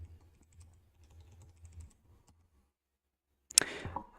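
Computer keyboard typing, a run of soft rapid key clicks up close for about two seconds, then a pause and a sharper louder clatter near the end, with no voices.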